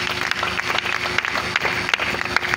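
An audience claps steadily and densely at a celebration ceremony, a sustained round of applause from a crowd in a large space, with no other sound standing out.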